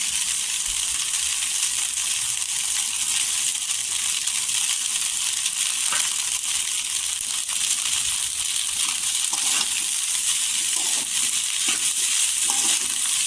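Steady sizzling and soft scraping from a pan as leftover rice with coriander is stirred and sautéed, continuous and close, with no voices.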